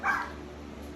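A single short bark from a Ratonero Palmero, the rat dog of the Canary Islands, rings out close and sharp, then trails into a quiet, steady background hum.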